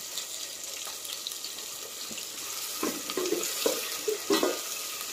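Onions sautéing with a pinch of salt in a pan, a soft steady sizzle with scraping stir strokes growing louder toward the end, close and fairly quiet, no talking.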